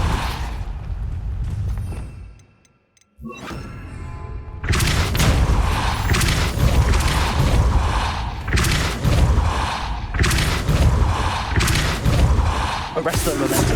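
Depulso force spell cast in Hogwarts Legacy on PS5, loud bursts of booming, thudding magical impacts repeating over busy game action, after a brief quiet gap.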